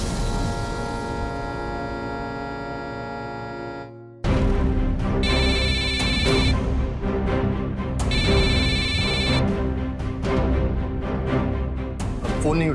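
A phone rings unanswered inside a household drama, a repeating electronic ringtone set against background music that cuts off sharply and then returns with fuller music and pulsing tonal bursts.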